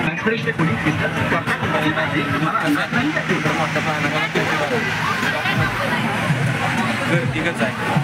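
Crowd bustle at the Nagthane Shri Ram chariot fair: a steady, dense hubbub of many voices with passing vehicle engine noise mixed in, continuous and fairly close, with someone talking over it.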